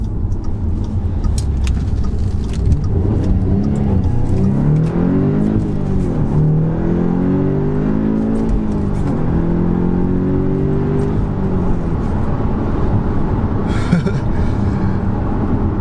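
A stock Audi S3 engine pulls hard while driving around a left turn, its note rising in long sweeps over a steady road drone. The sound is loud and continuous, with no speech.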